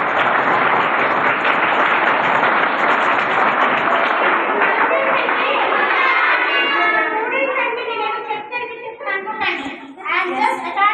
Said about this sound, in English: A big clap to Anjana madam also.